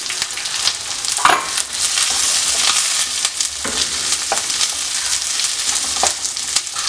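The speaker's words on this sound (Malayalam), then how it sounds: "ഉള്ളി ചേർത്ത് വഴറ്റിയെടുക്കാം" Onions sautéing in a pan for a Kerala prawn roast, a loud, continuous sizzle and crackle with occasional scraping stirs, heard close and without talk.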